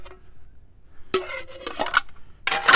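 Raw aluminum camping cooking pots are handled in a few bursts of metallic clinking and clattering, close and fairly loud, with quiet gaps between them and no talk.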